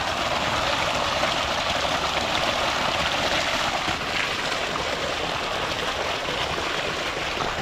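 Irrigation water flows steadily through channels in a village field, a continuous broadband rush and splash at close range with no gaps or voices for the whole stretch.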